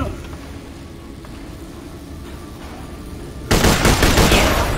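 Automatic gunfire in the sci-fi shooter Borderlands: The Pre-Sequel bursts in loudly near the end, a sudden dense rattle of shots following a quieter stretch of low rumbling background and faint voice.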